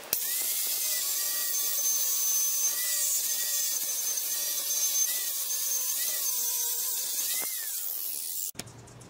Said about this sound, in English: go ahead and prep the surface on this piece of metal that we cut out so that it's easier to weld